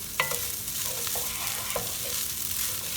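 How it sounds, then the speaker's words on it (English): Vegetable fried rice is stir-fried in a hot pan, giving a steady soft sizzle with a few scraping stirs of the utensil near the start and in the middle. "so you have got to get the rice really coated and fried everywhere, every morsel"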